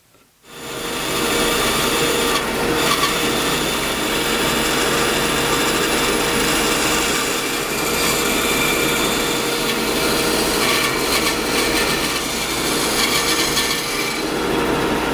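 A curved profile is cut into the end of a piece of wood traced from a French-curve template, for an inclined cat climber; a steady, continuous sawing and rasping noise runs close and loud throughout, with no talk.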